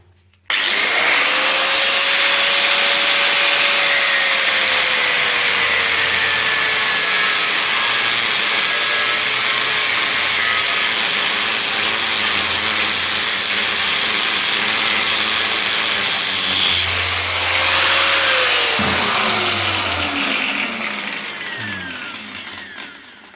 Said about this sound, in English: we should go and grind that collar off